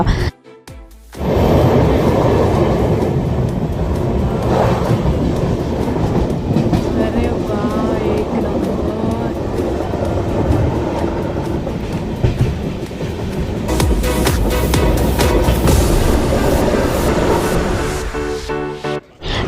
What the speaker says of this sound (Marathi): आता आम्ही ट्रेन आमची जाणार आहे टनेलमधून